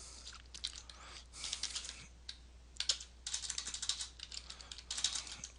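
Rapid computer keyboard typing, close and fairly quiet, in irregular bursts of clicking keystrokes with brief pauses between them, alone without any talking.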